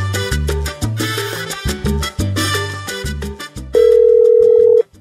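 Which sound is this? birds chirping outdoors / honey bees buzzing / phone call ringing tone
phone call ringing tone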